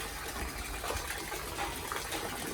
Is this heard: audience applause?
no